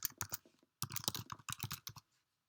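Computer keyboard typing in quick bursts of close, crisp key clicks with a short pause midway, as an email address is entered into a form; no talking.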